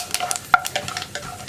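Grated coconut fries in ghee for a green gram and rice payasam while a spoon stirs it. Quick, uneven scraping strokes sound up close over a light, crackling sizzle.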